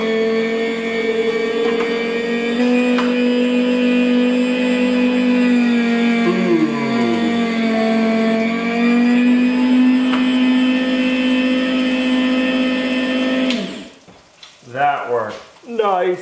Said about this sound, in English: We have a nice meat slicer for slicing homemade bread. So let's see how good of a job this will do slicing our bacon.